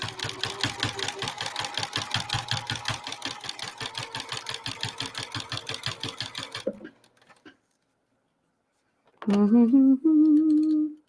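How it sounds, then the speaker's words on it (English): Sewing machine stitching a half-inch seam on an oven mitt, a fast, even, close mechanical chatter for several seconds that then stops, followed by brief quiet and a short burst of voice. "We're going over that 1/2 inch seam anyway. So we'll do it again."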